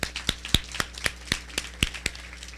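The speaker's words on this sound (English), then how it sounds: "Give yourselves a round of applause." Scattered, sparse clapping rings out at a school board meeting, about a dozen distinct sharp claps spaced irregularly in a quiet room rather than a full round of applause.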